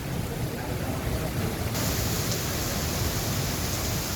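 Heavy thunderstorm rain pours in Dubai as a dense, even roar of broadband hiss, steady and enveloping, with the sound thinning slightly partway through and no voices.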